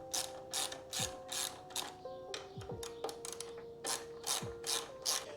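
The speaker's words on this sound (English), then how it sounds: "We're just gonna undo these 4 bolts." A hand ratchet clicks in quick repeated bursts while loosening the fuel tank bolts on a motorcycle, close and fairly quiet, with short pauses between strokes and faint metallic knocks.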